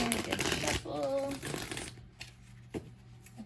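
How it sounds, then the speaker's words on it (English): Goddess Inspiration oracle cards being shuffled by hand, a brief run of papery riffling and taps, with a voice briefly heard over it. "This one, good shuffle."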